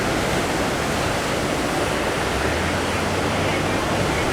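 Whitewash waves break and churn near the shore at Ho'okipa Beach Park during a paddleboard sprint race, a steady, loud roar of broad surf noise with a low rumble.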